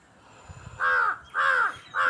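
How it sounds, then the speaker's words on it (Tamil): Crows caw three times in close succession, loud and near, each call a harsh drawn-out rasp separated by brief pauses. "இந்த காகம் வேற பாருங்க, இவங்க ஒரு பக்கம் கத்திக்கிட்டு இருக்காங்க."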